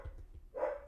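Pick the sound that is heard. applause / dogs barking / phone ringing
dogs barking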